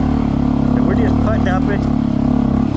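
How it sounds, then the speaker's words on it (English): A Honda CT 125 motorcycle fitted with a big bore kit climbs a steep, rough off-road section in first gear at quarter throttle, its engine giving a steady low drone throughout with someone talking over it. "Putting up it, quarter throttle, first gear."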